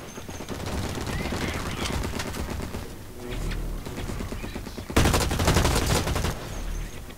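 Assault rifle fire in the shooter game Blacklight Retribution on the Heavy Metal map, with steady rapid bursts under game noise that swell into a louder, denser volley near the end.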